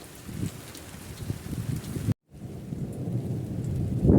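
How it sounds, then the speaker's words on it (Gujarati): Heavy unseasonal rain pours on a farm hut while thunder rumbles, a dense steady hiss of falling water with low rolling booms and wind, heard from shelter and briefly cut out before continuing. "ગાજવીજ એવું થયું મિત્રો"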